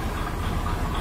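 A low, steady rumble of an idling stock 305 V8 engine in a Chevrolet squarebody truck, close by, with a faint uneven lope in the exhaust.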